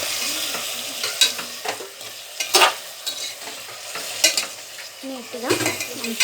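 Food is stirred in a cooking pan with repeated scraping strokes and sharp spoon clinks over a soft sizzle, close and fairly loud.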